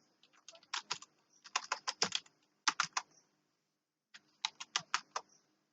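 Rapid keystrokes on a computer keyboard while writing JavaScript code, clicking in quick bursts with a short pause before a final run of keys, close and crisp with no talking.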